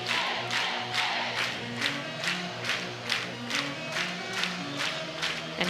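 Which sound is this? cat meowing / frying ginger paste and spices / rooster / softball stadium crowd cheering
softball stadium crowd cheering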